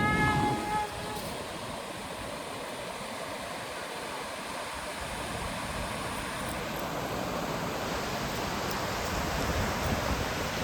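Waves at Tannir Bavi beach in Mangalore make a steady, broad wash of surf noise that rolls on evenly and moderately loud throughout, with no distinct separate breaks.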